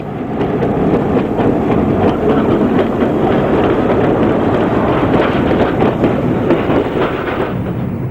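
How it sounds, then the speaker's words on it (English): Class 45 diesel locomotive 45142 hauling a northbound Freightliner to Leeds at Treaton in March 1982: a loud, steady roar of engine and rolling wagons that continues unbroken and close by throughout. "we find 45142 heading north at Treaton with the Freightliner to Leeds, March 1982"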